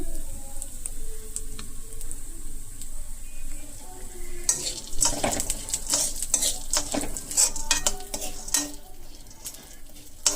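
Chana dal and green chillies sizzle and crackle in a pan, quiet at first and then busier with sharp pops and stirring scrapes from about the midpoint onward, with no talking.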